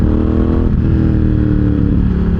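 Air-cooled engine of a Ducati Hypermotard 1100 EVO SP motorcycle revving loudly and continuously up close, a steady throbbing roar with rising and falling pitch and no voices over it.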